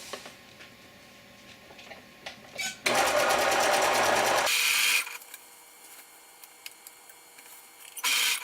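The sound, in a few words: sewing machine zigzag stitching the edge of sleep shorts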